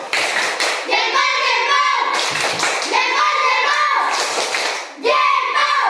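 Children in a classroom do a rhythmic thumbs clap, a series of patterned claps and thumps in bursts with short pauses, young voices mixed in.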